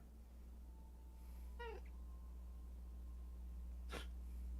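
A pet cat gives one short meow during a tabletop Warhammer Skaven campaign session, followed a couple of seconds later by a brief sharp snort or sneeze, both over a steady low hum.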